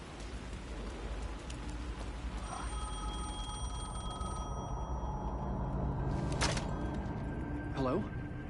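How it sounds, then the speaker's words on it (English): In the Alan Wake 2 video game, a telephone bell rings in short bursts over steady heavy rain, with a voice speaking briefly. "The phone was ringing again."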